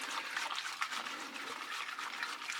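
A whisk stirs chocolate into an ice cream base in a bowl, giving a faint, steady wet swishing and scraping that runs continuously with no talking.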